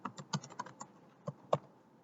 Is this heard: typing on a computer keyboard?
yes